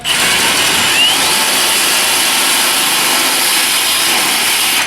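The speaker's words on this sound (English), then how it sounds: "We're drilling out the spot welds to get rid of that piece of flange that's on there." A loud, harsh power drill grinds continuously through car body sheet metal, drilling out spot welds, a high-pitched cutting whine that holds steady for several seconds.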